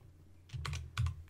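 Typing on a computer keyboard at a terminal, with a few quick, soft keystrokes in two short clusters over a low background hum.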